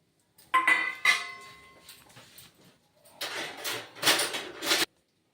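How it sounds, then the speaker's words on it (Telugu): Tempering spices drop into two spoons of hot oil in a kadai. Close crackling and sputtering comes in a few uneven bursts, with a quieter gap in the middle. "ఈ తాలింపు దినుసులు వేయాలి."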